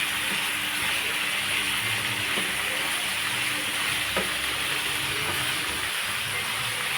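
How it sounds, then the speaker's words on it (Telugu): Chicken frying on high flame in a pan, a steady loud sizzle and hiss running throughout with faint stirring clinks, no talk. "ఈ చికెన్ హై ఫ్లేమ్లో పెట్టి ఒకసారి బాగా కలిపి ఒక నిమిషం పాటు కలిపితే"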